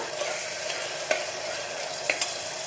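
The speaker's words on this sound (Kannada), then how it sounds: "ಇದು ಈರುಳ್ಳಿ ಚೆನ್ನಾಗಿ ಫ್ರೈ ಆಗಲಿ, ಸ್ವಲ್ಪ ಕೆಂಪು ಬಣ್ಣ ಬರಲಿ, ಅಲ್ಲಿವರೆಗೂ ಇದನ್ನು ಫ್ರೈ ಮಾಡ್ಕೊಳ್ಳೋಣ" Onions frying in a pan for a savoji-style mutton sukka, with a steady close sizzle and a couple of sharp scraping stirs, no voices.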